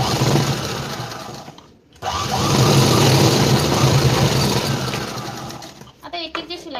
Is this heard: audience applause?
no